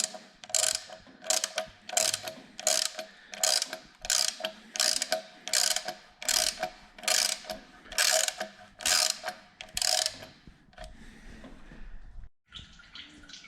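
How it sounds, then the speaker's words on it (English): Rapid ratcheting clicks come from a 13 mm wrench being cranked anti-clockwise on the oil pan drain plug of a Ford Transit 2.2 TDCi, sounding in about a dozen close, even bursts before a short pause and a faint trickle. "The plug can be opened with 13 millimeter wrench. Also I am turning anti-clockwise."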